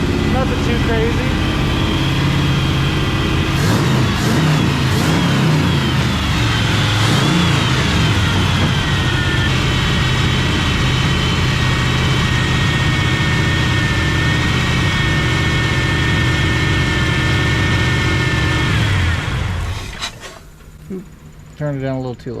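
A Big Block Chevy V8 runs close and loud with a steady rumbling idle, a few rising revs early on, then cuts off near the end; people talk over the engine.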